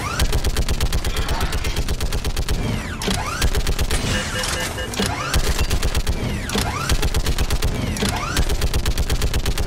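Rapid mounted-turret gunfire in a Mass Effect 3 shooting mini-game during the Earth landing, loud bursts of repeated shots with mechanical clanks and sweeping whooshes throughout.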